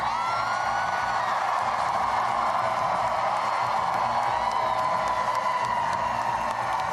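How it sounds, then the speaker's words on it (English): An election-night crowd of supporters cheers at a newly elected governor's victory speech, with sustained whoops, shouts and clapping forming a loud, continuous roar. "Fired up crowd there"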